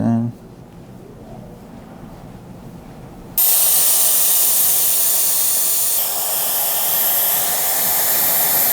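A hair dryer fitted with a diffuser roars on at low air and medium or low heat to dry a client's curly hair, a loud steady blowing hiss that starts abruptly after a quieter stretch where someone talks.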